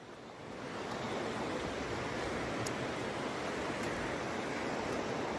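Sea surf rolls over a very rocky beach as the tide rises, a constant close wash of rushing water with no distinct breaks and no voices.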